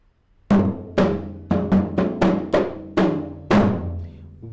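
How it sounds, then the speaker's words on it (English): A Sri Lankan ritual drum strikes out an eight-beat rhythm, eight resonant hits with ringing decays, uneven spacing with a quick cluster in the middle, played alone and close. "the drum from which these syllables derive, it sounds like this"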